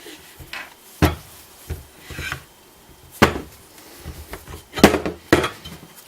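A 1940s Excel lathe's top slide lead screw and bronze nut being taken out, giving scattered metallic clunks and knocks with soft rubbing between them, close by and without speech.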